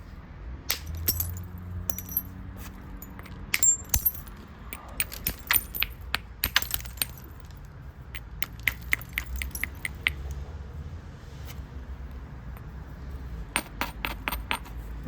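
Flintknapping a Humboldt point, sharp clicking and ticking flakes of stone struck off in irregular clusters, close and fairly quiet with no talking.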